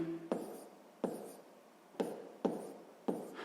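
Pen strokes of a math calculation being written down, several separate scratching bursts at an uneven pace, close and fairly quiet with no talk.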